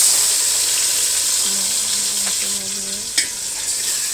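Chicken and onions frying in a pan in a home kitchen, a steady loud sizzle throughout with a few stirring scrapes and clinks, no talking.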